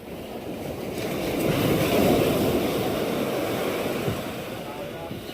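Steady roar of ocean waves washing and surging, broad and continuous with wind noise over the microphone, no talk.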